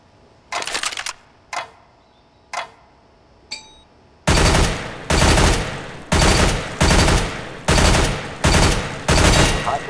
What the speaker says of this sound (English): Fire in short, controlled bursts.